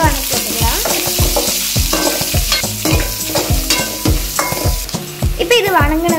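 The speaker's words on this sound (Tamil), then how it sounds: "அப்புறமா வெங்காயம் ஆட் பண்ணி நல்லா வணக்கி விட்டுக்கலாம்" Onions, chana dal, curry leaves and dried red chillies sauté in a pan for lemon sevai, giving a loud close sizzle under brisk, rhythmic spoon strokes that scrape and clatter against the metal throughout.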